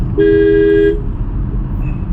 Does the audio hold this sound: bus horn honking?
yes